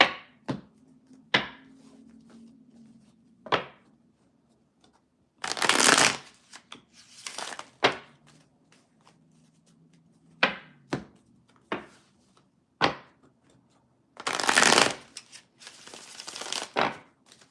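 Repeated bursts of tarot cards being shuffled, a few long riffles among many short taps and flicks, close and fairly loud with quiet gaps between.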